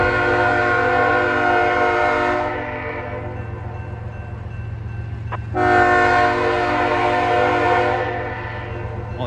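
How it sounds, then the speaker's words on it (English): A train approaches a snowy level crossing and blows two long, loud, chord-like horn blasts separated by a brief pause, with a steady rail rumble beneath. "Train coming in"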